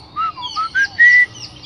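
Close, clear whistling mimics a bird's song in a quick series of short chirping notes that rise in pitch toward one longer held note, with no talk.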